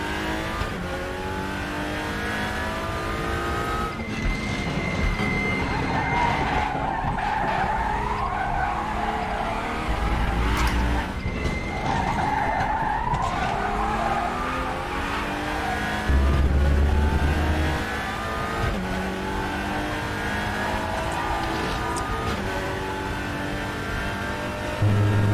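Race cars lap Sepang Circuit in a sim racing video game during qualifying, with loud revving engines and repeated tire squeals and skids running continuously throughout.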